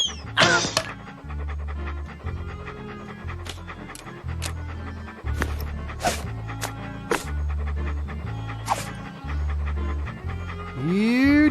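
Walt the dog in the pirate adventure game Monkey Island 2: LeChuck's Revenge pants in quick, rhythmic huffs over looping game music, with sharp effect hits scattered throughout.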